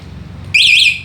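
Electric bike anti-theft alarm on a D60 e-bike, a loud shrill electronic beep starting abruptly after a quiet moment and holding steadily for about half a second.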